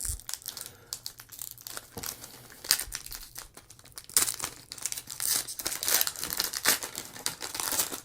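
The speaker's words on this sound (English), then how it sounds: "we'll start to open up our first foil" A foil Transformers 40th Anniversary trading card pack is torn open, with close, busy crinkling and tearing that comes in irregular bursts and grows denser and louder in the second half.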